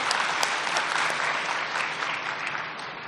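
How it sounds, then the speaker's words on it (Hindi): An audience at an inaugural welcome session applauds in a steady, dense wash of clapping that holds evenly from start to finish, loud and close. "ताली बजाइए"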